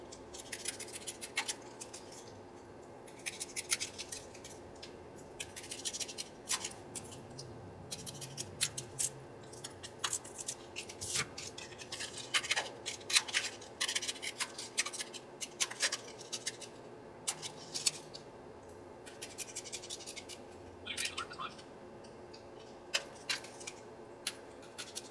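Scissors trimming frames cut from playing cards, quiet crisp snips repeating irregularly throughout, close up and with no talking.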